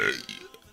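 A loud, close burp opens the moment and trails off quickly in one short belch, with faint background noise after it.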